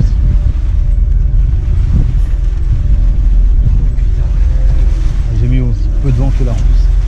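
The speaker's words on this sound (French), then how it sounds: "le moteur, là, toutes les 10 minutes, il fait ce bruit là" A boat engine at sea in the Indian Ocean drones loudly and unevenly, periodically faltering, under strong wind and water noise, with a few warbling surges near the end.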